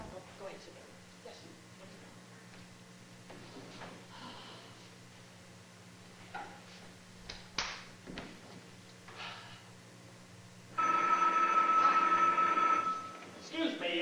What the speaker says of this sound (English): Excuse me, I have to answer the phone.